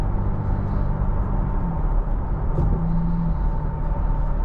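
From inside the cabin, a 2023 Toyota Tacoma TRD Pro engine drones steadily while driving, a moderately loud, even low hum with a faint tonal shift partway through and no talking.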